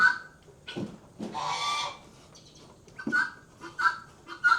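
Guinea fowl in a pen give short, harsh, honking calls in scattered bursts, fairly faint and separated by quiet gaps.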